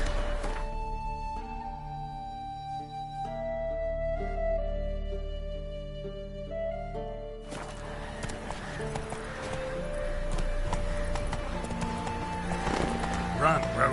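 Roach, a horse in The Witcher 3, gallops with steady clip-clop hoofbeats beneath a continuous musical score that swells and grows busier partway through, the hooves staying at a moderate distance.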